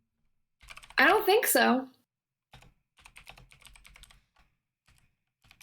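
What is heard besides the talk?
typing on a computer keyboard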